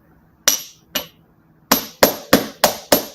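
Metal hammer striking wire on a steel bench block set on a velvet pad, seven sharp ringing taps: two spaced blows, then five in a steady quick rhythm, close and fairly loud.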